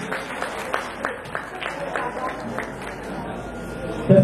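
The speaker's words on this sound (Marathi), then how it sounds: "जोरदार टाळ्यांचा स्वागत करायचं." Applause from a crowd at a retirement ceremony, a steady patter of clapping with several sharper peaks, set against background chatter and a louder burst right at the end.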